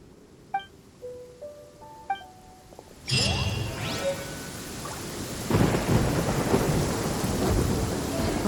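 Rain and a thunderstorm in the video game Genshin Impact: after a few soft chimes, a loud thunder crack breaks in, followed by steady rainfall and a second rumbling roll, with no talking.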